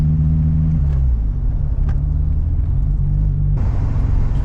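A VW Golf 2 with a 1.3-litre turbocharged engine pulls at full throttle, its deep droning engine note loud and close, shifting pitch partway through, with an added hiss of airflow or turbo in the final second.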